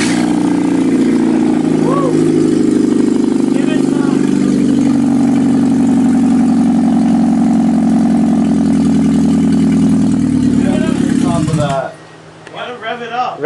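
A Ford Escort engine runs off an open header with no exhaust, a steady raw idle with a brief blip of revs, loud and close for about twelve seconds before cutting down to quieter background noise.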